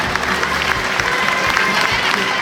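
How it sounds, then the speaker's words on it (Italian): At a beauty pageant held at a Padova trade fair, an audience claps in a dense, continuous round of applause, with a voice faintly under it. "Intanto un applauso ancora e grazie"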